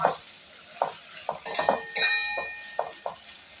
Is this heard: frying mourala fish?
yes